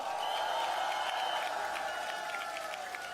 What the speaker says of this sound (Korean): 여러분 힘내라고 박수 한번 부탁드립니다.